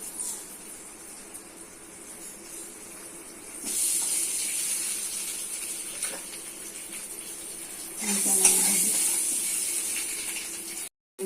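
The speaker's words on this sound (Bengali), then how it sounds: "গরম হয়ে গেছে তেল দিচ্ছে একটু হলুদ গুঁড়ো দিচ্ছি লবণ ডিমগুলো লালতে দিচ্ছি" Eggs frying in hot oil with turmeric powder and salt give a steady hiss that rises in two stages as more goes into the pan, with a faint clink near the end.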